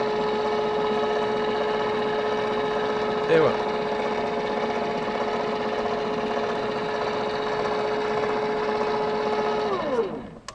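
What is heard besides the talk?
tubular motor MIT1210/3210 running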